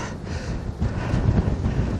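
Wind blows through woodland and buffets the microphone, a steady rushing roar that swells in low gusts, with no voices.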